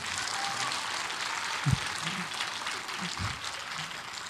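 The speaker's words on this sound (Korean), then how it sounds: "다시 한번 큰 박수 부탁드리겠습니다." Audience applause fills a concert hall after a brass quintet's trumpet bugle call, a steady dense wash of clapping with a couple of low thumps partway through.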